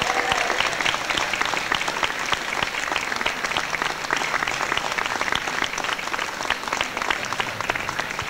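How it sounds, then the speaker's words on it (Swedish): Crowd applause at a wheelchair race, dense steady clapping from many people that holds loudly and evenly throughout. "Och vi ger dem en riktigt stor applåd."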